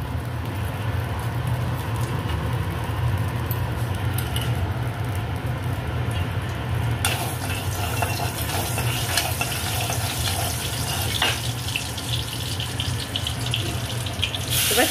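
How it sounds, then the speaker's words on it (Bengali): Prawns frying in hot oil in a wok: a steady, dense hiss and crackle that runs unbroken throughout, close and fairly loud, with no talking. "এবার চিংড়ি মাছগুলো ভেজে নেওয়া হচ্ছে।"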